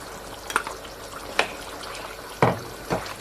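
A spoon stirs Jamaican curry stewed pork with butter beans in a pot, giving several wet, sloshing scrapes at uneven intervals, close and moderately loud, with no talking.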